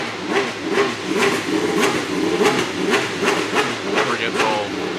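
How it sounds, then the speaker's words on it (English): Race car engines rev at a motorsport event, rising and falling in repeated pulses, loud and fairly close, with a broad roar running throughout and no voices on top. "we got the sound of engines."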